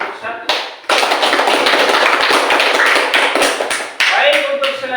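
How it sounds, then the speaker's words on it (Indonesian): A class group claps steadily for about four seconds after the first student group finishes presenting at a university teacher-training session, a dense, loud round of applause following a short opening spoken phrase. "kita berikan aplaus kepada kelompok 1"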